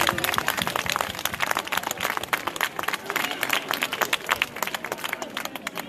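An audience at a Santa Lucia evening gathering in Burgio claps in a lively, close, irregular burst with sharp individual claps throughout, lasting several seconds with no speech over it.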